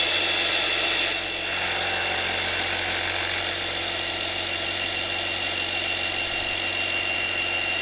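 A cordless drill in high torque mode runs steadily with a constant whine and low hum, briefly dipping in load early on, with no talking.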